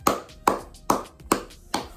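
Five single hand claps spaced at an even, steady rhythm, sharp and close, with no talking.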